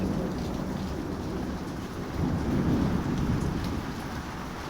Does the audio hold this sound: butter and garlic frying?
no